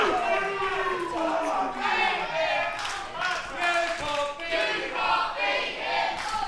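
At an independent wrestling show, a crowd chants and shouts at wrestler Rishi Ghoshi, a loud, rhythmic chorus of voices that rises and falls continuously throughout.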